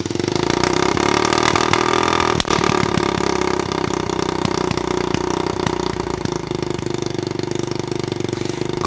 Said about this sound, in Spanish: Como veis, ahora sí mantiene el ralentí, aunque sigue estando un poco alto